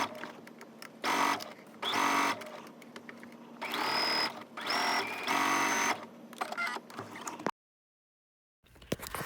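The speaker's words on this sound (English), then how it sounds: "back stitch twice, and then you're going to sew the rest of your seam closed" Home sewing machine stitching a garment seam closed, steady mechanical whirring in several bursts of a second or two, each one starting and stopping, close by and with no talking.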